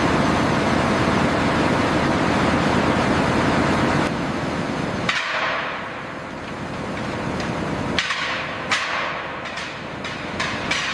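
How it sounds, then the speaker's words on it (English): Gold ore tumbling into a rotating grinding mill intake, a dense continuous roar of rock and machinery that eases after about five seconds, with sharp clanks and knocks in the later part. "As the ore drops into the rotating mill intake, the grinding process begins"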